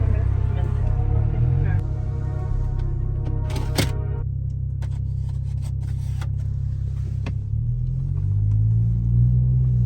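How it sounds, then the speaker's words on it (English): A car, a BMW E92 335i with the N55 engine, drives along a city road, its steady low engine rumble and road noise running throughout, with a brief clatter in the middle. "So I'm driving down Burlington right now."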